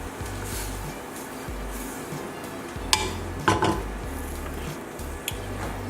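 Scraping, clinking stirring of rice in boiling water in a metal pot, with a few sharp knocks against the side, over a low steady background hum.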